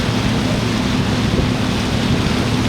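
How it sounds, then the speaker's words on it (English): A tour boat cruising on a lake vibrates and shakes with a steady low engine drone, wind and water rush roaring loudly close to the microphone without pause. "I'll try to show you as the whole bloody boat shakes"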